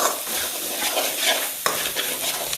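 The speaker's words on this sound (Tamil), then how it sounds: "இஞ்சி பூண்டை நல்லா சாத்தியம் பண்ணிப்போம்" Dense, steady sizzling of ginger garlic paste frying in hot oil, with a spoon stirring and a brief scrape near the end, close by.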